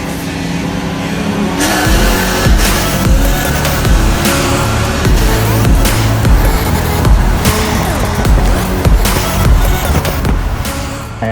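Loud, close engines roar steadily as cars race from a rolling start in first gear at around 25 mph, the revving holding strong and continuous throughout with no talk.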